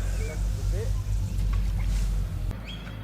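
A paddle steamer on the Murray River gives off a low, steady throbbing rumble nearby while someone talks over it.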